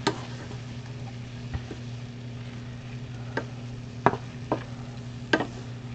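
Beef browning in a pan for stroganoff, with a low steady sizzle and a few sharp ticks and clinks of a utensil against the pan, close and fairly quiet, with no talking.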